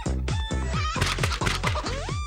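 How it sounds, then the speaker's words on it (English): A chicken song sound effect played on a radio show: loud, rhythmic clucking and squawking in repeated rising bursts, with a bird-like warble near the end and no speech. "That's the chicken song for the Reverend."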